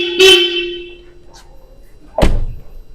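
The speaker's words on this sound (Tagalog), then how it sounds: "check muna natin yung Bosch na busina." A Bosch car horn on a 2018 Hyundai Starex gives a short loud honk, followed by a sustained fading tone, then a heavy thunk near the end.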